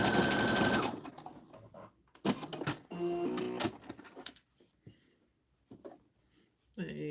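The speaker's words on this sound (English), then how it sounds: "And then we will sew the ends around." Sewing machine stitching around the ends of a fabric bowl cozy, heard in a steady whirring run that starts and stops several times, with a person speaking between bursts.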